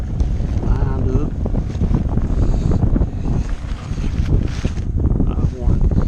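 Strong wind buffets the microphone aboard a sailboat, a steady loud rumbling roar with gusty swells and faint water sounds underneath, and a voice now and then in the mix.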